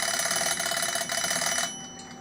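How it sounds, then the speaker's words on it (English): A Westclox alarm clock rings loudly and continuously with a harsh metallic bell clatter, pulsing steadily before abruptly dropping off near the end. "So that is the West Clocks alarm clock."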